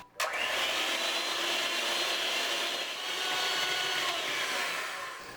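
Electric mixer running at top speed whips a sugar mixture for a Turkish trileçe cake, a steady loud whirring with a scraping hiss that holds for about five seconds after a sharp start, with no talking.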